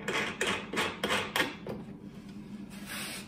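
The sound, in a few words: screwing a part into a wooden mortising jig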